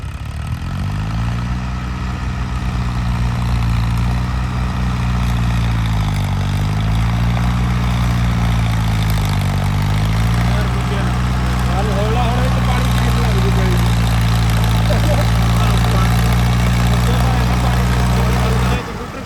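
A tractor engine running steadily at a low, rumbling idle with a slight pitch wobble early on, loud and close, with someone talking over it throughout.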